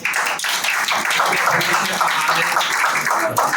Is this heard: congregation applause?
yes